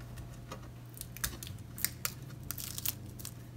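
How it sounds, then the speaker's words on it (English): Tape rips and crackles as it is peeled off an acrylic paint skin, a quiet run of short irregular tearing and crinkling bursts that grows busier toward the end, with no talking. "let's peel this one off"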